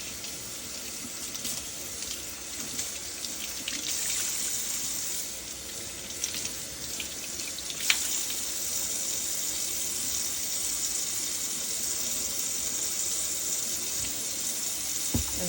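Tap water runs steadily into a quartz composite sink during rinsing, a continuous broadband hiss with small splashy variations, close and fairly loud throughout with no talking.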